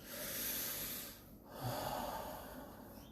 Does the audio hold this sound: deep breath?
yes